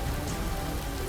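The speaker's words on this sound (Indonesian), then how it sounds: "Hujan deras banget." Heavy rain pours on a mountain trail on Mount Kerinci, a dense, steady hiss of drops close by with no voices.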